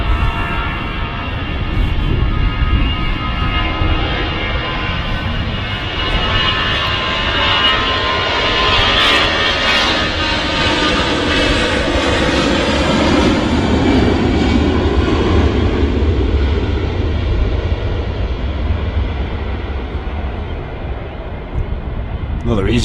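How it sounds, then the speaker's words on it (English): An EasyJet jet airliner departs from Manchester Airport, its engines a loud, broad, sustained roar that swells and holds for about twenty seconds, with people talking over it. "Another EasyJet departing there."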